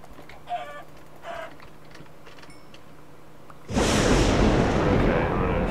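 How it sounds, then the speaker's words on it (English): Chicken in a Hunger Games video game gives two short clucks close by, followed by a sudden loud, sustained rushing noise. "Chicken. Let's kill this chick."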